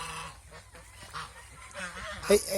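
A few short nasal honking calls from ducks near the end, over a low steady background hum with faint indistinct sounds earlier.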